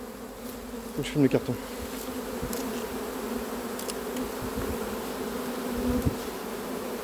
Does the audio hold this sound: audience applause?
no